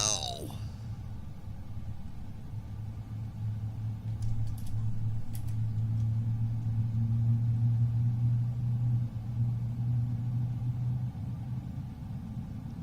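Airliner engines spooling up during startup in a flight simulator game, a steady low rumbling drone that swells slightly midway and holds under faint cabin ambience, quiet and continuous.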